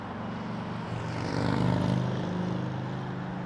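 A Jazz airliner lands on runway 24 left at Toronto Pearson Airport, heard as a steady low engine drone that swells briefly and then eases.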